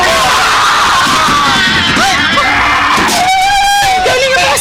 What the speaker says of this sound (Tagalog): Galing ang mga sigaw na yun!